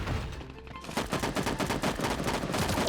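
Rapid, loud gunfire from the cartoon battle royale video game Sausage Man, a dense run of repeated shots filling the clip with no talking.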